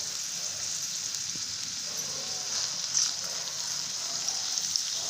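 Finely chopped onion frying in oil for brinjal curry, a continuous crackling sizzle with light pops and a couple of soft stirring knocks, close and steady.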